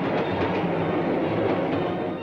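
A 1949 electric train on the Eindhoven–Maastricht line runs at speed over rails and switches beneath overhead wires, giving a steady, dense rumbling roar with faint clatter throughout and no voices.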